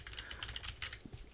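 Fast typing on a Keychron K3 V2 low-profile keyboard with tactile brown switches produces a quick, quiet run of soft clicks and clacks, close and alone.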